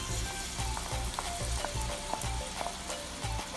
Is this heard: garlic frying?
yes